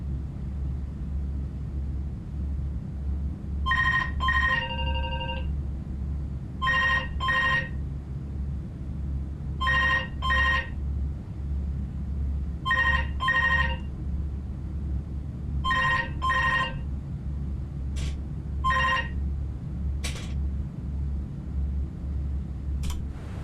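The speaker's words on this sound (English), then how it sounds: "Answer the phone." A telephone rings in a Microsoft Flight Simulator session during a flight on the Kangaroo Tour. It gives repeated double rings about every three seconds, clear and fairly close, over a steady low cabin and engine rumble, with no talk.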